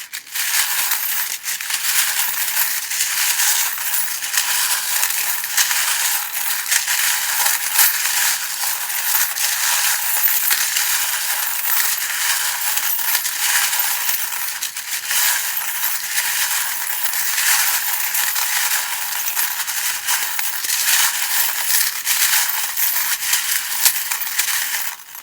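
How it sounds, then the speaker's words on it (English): Tarot charms are shuffled and jostled together in a continuous clattering, crunching rattle that stays loud and close for the whole stretch, with no talking. "if you don't like the sound of the charms being shuffled"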